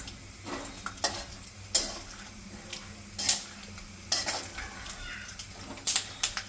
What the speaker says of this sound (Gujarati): આપણું તેલ ગરમ થઈ ગયું અને એમાં હવે આપણે આ સિંગદાણા એડ કરી